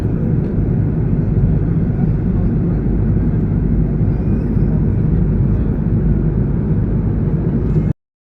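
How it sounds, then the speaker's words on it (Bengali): Inside an airplane cabin as the plane descends, a loud, steady low engine and air roar fills the space without letup, ending in abrupt silence. "প্লেন আস্তে আস্তে করে নিচে নামছে।"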